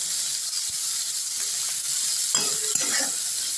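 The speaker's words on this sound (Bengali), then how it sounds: "ফুলকপিটাও আমি একটু ভাজা ভাজা করে নিচ্ছি" Cauliflower frying in a pan hisses in a steady, close sizzle, with a short burst of stirring or scraping near the end.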